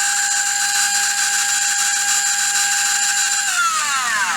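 A REDS Racing VX4 motor spins at high RPM, giving a steady, loud, piercing whine that holds an even pitch, then drops and sweeps downward near the end as it spools down.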